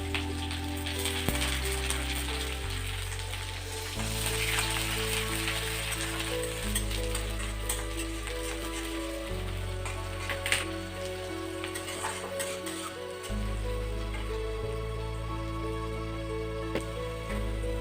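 Cumin, bay leaves and chillies fry in oil for a mutton korma, giving a steady crackling sizzle that runs throughout beneath background music with a slow stepped melody.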